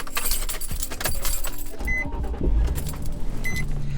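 A Nissan 350Z drives along, its engine and road noise a steady low rumble, with a jingling of keys and brief small clicks inside the cabin.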